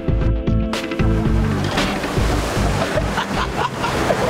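Water rushes and crashes steadily in a surf stream wave pool where a jet shoots water out, a loud continuous roar with surging bursts and a low rumble throughout.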